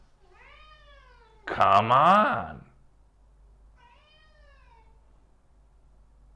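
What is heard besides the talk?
cat meowing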